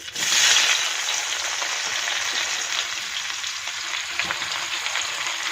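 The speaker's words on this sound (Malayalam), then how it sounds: "ഇനി ആ മീൻ വറുത്തെടുത്ത വെളിച്ചെണ്ണയിലേക്ക് തന്നെ നമുക്ക് ഈ മസാലകളൊക്കെ ചേർത്ത് വഴറ്റിയെടുക്കാം" Onion, green chili, ginger and curry leaves sauté in coconut oil left from frying fish, making a loud, dense crackling sizzle that swells at the start and then holds steady.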